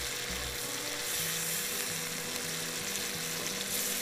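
Minced qeema with tomato and masala sizzles and fries in a pan, a continuous close hiss with faint stirring scrapes and no talk.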